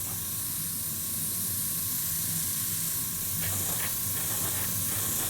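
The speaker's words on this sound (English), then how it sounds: "there's no way you can see the paint coming out of this airbrush, but it's coming out all right" An airbrush sprays paint onto a Tamiya Panther model tank, a constant soft hiss held steady throughout at a close distance, with faint brief ticks toward the end.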